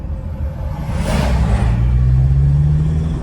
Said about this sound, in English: We'll let this truck go past.